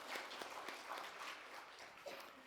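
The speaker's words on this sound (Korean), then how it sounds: "크게 하나님 앞에 영광의 박수를 돌리겠습니다." A church congregation at a Sunday worship service applauds together, a faint, distant wash of steady clapping lasting a few seconds with no clear words spoken over it.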